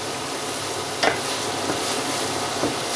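Egg bhurji masala sautés in a pan with a dense, continuous sizzle, broken by a few scraping strokes of a spatula.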